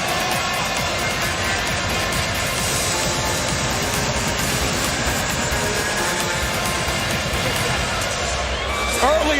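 Arena crowd gathering before a pay-per-view boxing event, a steady broad roar of many voices murmuring and calling out, continuous and dense throughout.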